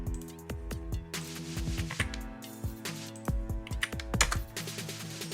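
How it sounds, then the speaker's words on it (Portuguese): Rapid keystrokes on a computer keyboard as a salary figure is entered into a JavaScript program, a steady run of crisp, close clicks with short pauses and a few heavier taps. "eu vou digitar um valor de salário"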